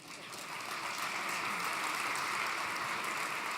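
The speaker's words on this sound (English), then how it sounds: "you can give him a round of applause." Quiet, steady applause from a conference audience for a panelist coming up on stage, sounding somewhat distant and building slightly before holding even.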